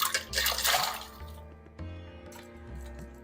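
Water poured into a pot of peeled, cubed carrots and swede, a broadband splashing pour for about a second and a half, then quieter sloshing and trickling close by, with no talk.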